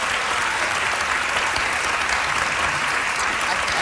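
A television talk-show studio audience breaks into sustained applause, a dense, even wash of many hands clapping that holds at a steady level from start to finish.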